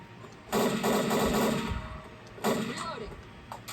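Gunfire in the Left 4 Dead game: two loud bursts of rapid automatic fire, the first lasting over a second and the second shorter, with quiet gaps and a faint voice between them.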